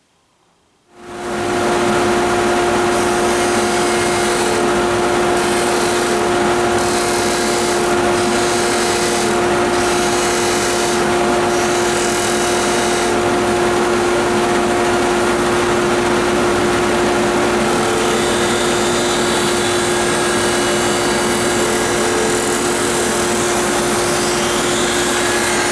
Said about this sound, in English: we've got all of our outside curves and our straight sections sanded right to the line using the disc sander